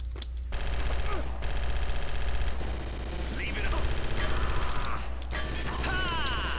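Sustained rapid gunfire fills a frantic firefight in the Chaser video game, dense overlapping bursts with mechanical clatter and ratcheting, loud and continuous with no pause.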